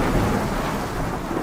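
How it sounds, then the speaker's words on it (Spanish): Heavy rain lashes down with a deep continuous thunder rumble, a dense steady roar with no breaks, loud throughout. "Repentinamente, una lluvia fuerte azotó toda la zona en donde estaba el Lucario."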